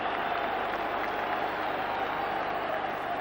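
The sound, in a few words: football crowd cheering for a corner kick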